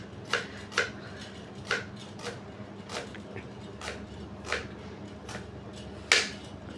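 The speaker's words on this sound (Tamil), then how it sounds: "வெங்காயம் வெட்டுறாரு பிரியாணிக்கு." Knife chopping onions for biryani in a home kitchen: sharp, separate cuts on a board at an irregular, unhurried pace, fairly close and moderately loud, with no talk over them.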